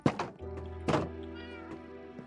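A house cat meows twice in a Minecraft streamer's room, short close calls a fraction of a second apart, over a steady low electronic hum.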